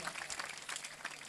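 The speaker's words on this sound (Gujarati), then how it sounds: "જોરદાર તાળીઓ દાદાને વધાવો" Audience applause at a live Gujarati comedy performance, a dense, steady patter of many hands clapping throughout with no clear talk over it.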